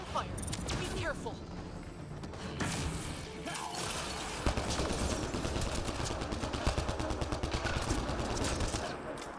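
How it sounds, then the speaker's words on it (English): Rapid automatic weapon fire in the sci-fi shooter Mass Effect Andromeda, sustained rattling bursts with sharp impacts layered over game sounds, while a player talks over it. "Gunfire! Be careful!"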